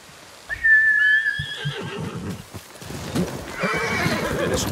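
Kage, a horse in the samurai game Ghost of Tsushima, lets out a loud, close, high whinny, followed by hooves clip-clopping and shuffling movement.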